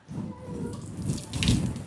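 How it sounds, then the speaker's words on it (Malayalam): Water sprays from a shower head set to its shower mode, a short close steady hiss and patter of falling water with no voices. "ഇതിൽ ഏഴ് പവർ സ്പ്രേ സെറ്റിങ്സ് വരുന്നുണ്ട്"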